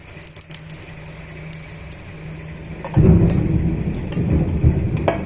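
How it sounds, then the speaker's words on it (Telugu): Thunder rumbles outside during a rainstorm, starting as a steady patter of rain and then swelling into a deep, loud roll of thunder that carries on to the end. "బయట వర్షం పడుతుందండి ఉరుకులు వస్తున్నాయి"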